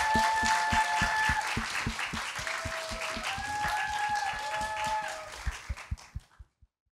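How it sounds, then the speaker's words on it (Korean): Audience applause for two acts, a singer and a band, at an indie music stage show, dense steady clapping from a crowd that holds for about six seconds, then thins to a few last claps and stops. "많은 박수 부탁드립니다."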